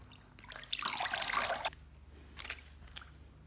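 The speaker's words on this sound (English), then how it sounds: "we change the water and wash it again" Water gushes from a tap for about a second while corn is being rinsed, then stops, followed by a few quieter splashes and trickles.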